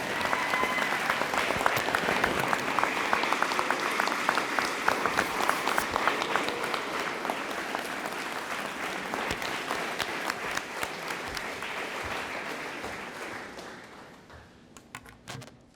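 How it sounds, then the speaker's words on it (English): An audience at a firefighter training academy graduation applauds the graduates and award recipients, a long sustained round of clapping that stays full and steady before tapering off into scattered claps at the end. "Let's hear it again for all of our award recipients and all of our graduates."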